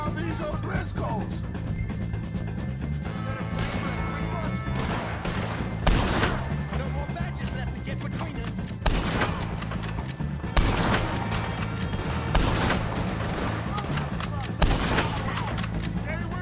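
Red Dead Redemption 2 gunfight against the O'Driscolls, with repeated loud gunshots and booming shots spaced over a steady noisy battle backdrop, and talk mixed in.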